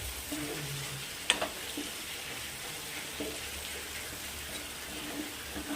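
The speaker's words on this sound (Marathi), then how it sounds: "आता मिक्स करून घेऊ" Cooked ivy gourd (tondli) with peanut powder is stirred in a pan with soft scraping and a faint sizzle, broken by one sharp clink of the utensil.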